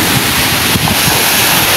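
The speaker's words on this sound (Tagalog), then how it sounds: "Oh, grabe po talaga yung alon." Loud, roaring storm surf and heavy typhoon wind buffet the microphone on the shore, a continuous rush of rough water with no voices.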